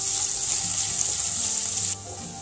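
Ginger and garlic sauté in a pan for a dhaba-style spicy potato curry, giving a close, continuous sizzling hiss that drops off abruptly just before the end.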